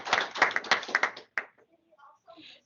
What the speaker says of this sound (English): Please join me in a round of applause for our honorees.